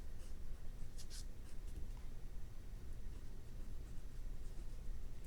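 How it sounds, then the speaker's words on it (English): Pen scratching on paper while handwriting a mathematical equation, continuous soft close strokes with faint room noise, no talk. "So I'm going to write the equation where I say this"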